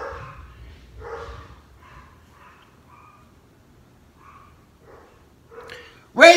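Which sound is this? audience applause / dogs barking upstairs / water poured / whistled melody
dogs barking upstairs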